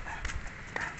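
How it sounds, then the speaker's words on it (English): A dog barks a couple of times outdoors, fairly faint and brief, with light background noise around the barks. "Si Langga, tinahula ng doggy!"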